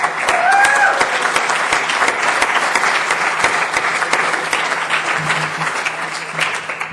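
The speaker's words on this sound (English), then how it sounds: "let's give a round of applause for some of the contestants" Audience applause for contestants at a fall 2008 presentation event, a dense, steady clatter of many hands filling the whole stretch, loud and close, with a brief cheer-like tone early on.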